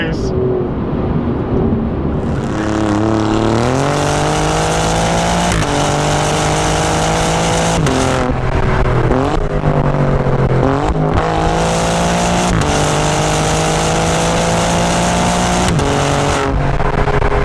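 An Alfa Romeo Giulia Quadrifoglio accelerating hard, its engine note climbing through repeated rising sweeps broken by brief gear-change dips, loud and steady inside the cabin while occupants talk over it.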